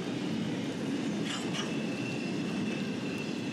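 A steady, loud rumble of a heavy Norfolk Southern freight train with three foreign engines rolling past close by, with faint metallic squeals of wheels on rail.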